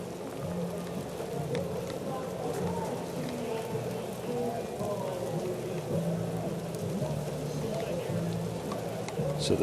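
Rain pours steadily over a baseball field during a Dodgers at Twins game, a dense, even hiss that fills the whole stretch while a broadcaster talks over it.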